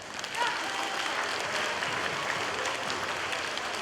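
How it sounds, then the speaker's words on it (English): Applause fills a school assembly hall at the Columbus Dojo, a dense, steady wash of many hands clapping that starts abruptly and holds evenly for several seconds, with faint voices mixed in. "Give yourselves a round of applause"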